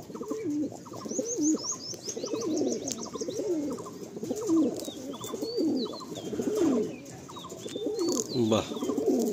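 Pigeons in a home loft in Garia coo close by in repeated soft, rolling phrases, a steady rhythmic chorus with a few higher chirps and faint background sounds.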